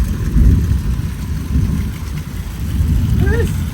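Heavy rain pours down in a thunderstorm outdoors in Darwin, Australia, a loud continuous wash with low rumbling underneath and a brief voice near the end.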